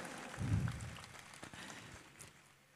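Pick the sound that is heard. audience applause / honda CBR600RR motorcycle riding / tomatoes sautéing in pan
audience applause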